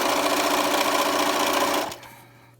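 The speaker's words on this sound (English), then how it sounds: "Go to your sewing machine and sew that down" A sewing machine runs steadily, hemming the edge of a cloth face mask, a close continuous whirring buzz for nearly two seconds before stopping abruptly, leaving a faint low hum.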